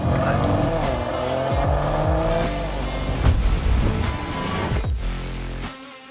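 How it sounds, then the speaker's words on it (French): A car braking hard on a wet road on Ventus S1 evo Z tyres, loud tyre hiss and spray with a falling engine note as the car slows sharply, then quiet. "on va écraser la pédale de frein. Maintenant le sol est humide"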